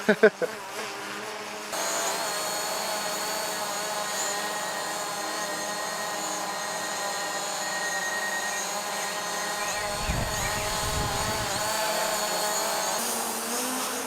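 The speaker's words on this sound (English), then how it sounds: "let's see how the Mavic Pro does flying into a stick" Close, steady high-pitched whine of a DJI Mavic Pro drone's propellers, starting after a few thumps and holding a constant buzzing tone, with a brief low rumble near the end where it meets a stick.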